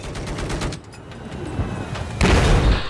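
Rapid video game gunfire rattles in dense bursts, loud and close, as enemies are shot. A brief lull gives way to a heavier, booming volley near the end.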